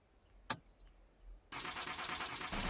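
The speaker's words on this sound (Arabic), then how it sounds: "بتضغط هيك اشتغلت السيارة، شايفين؟" Pickup truck engine in the Pickup video game cranking and catching at once, then settling into a steady loud idle that carries to the end, preceded by a short sharp click and soft electronic beeps.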